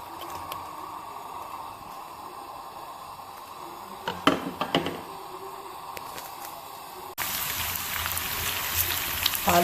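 Potatoes for aloo ki bhujia drop into hot oil with a brief clatter, then a loud, steady frying sizzle takes over and holds, close by with no voices.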